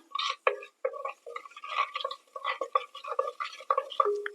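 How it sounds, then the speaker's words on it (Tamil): Mustard and fenugreek seeds splutter in hot sesame oil, a dense run of small crackling pops and sputters that carries on steadily throughout, close and fairly quiet, with no voices. "அதுக்கு கடுகு வெந்தயம் சேர்த்துருக்கேன் இது நல்லா பொறிஞ்சி வரட்டும்"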